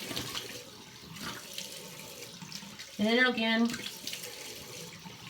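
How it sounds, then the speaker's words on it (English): Warm tap water runs from a faucet into a sink for rinsing a face, a steady close splash under a woman's quiet speech throughout. "So I'm going to reach down and like rinse this off just with warm water."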